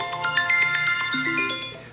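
The iPhone 12 "Waves" alarm tone plays loud and close: a bright, chiming melodic sequence of bell-like notes stepping through a repeating pattern, alone without any talking.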